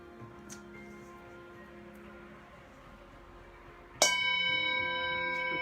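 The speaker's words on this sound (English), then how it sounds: "The bell calls you back home." A meditation bell is struck once, sharply and near, then rings on with a long, bright, slowly fading tone over a quiet room; before the strike only faint low background hum and a few small clicks are present.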